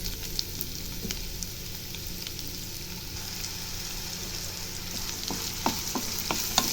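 Onions sizzle steadily in hot oil after cumin seeds, frying for a Malai egg gravy, with scattered crackles and a few louder pops near the end, no voices.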